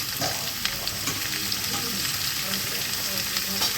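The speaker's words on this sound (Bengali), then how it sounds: "যেগুলো একটুখানি ভাজা হবে সেই সবজিগুলো আমি দিয়ে দিলাম" Vegetables for chicken soup sizzle and crackle steadily in a hot pan, a dense close frying hiss with faint clinks, with no talk.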